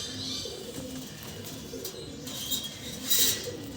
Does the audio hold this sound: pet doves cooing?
yes